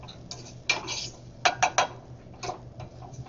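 A spoon scrapes and clinks against a pot while rice pilaf is stirred: a handful of sharp metallic taps and scrapes in irregular bursts over a low steady hum, close and fairly quiet.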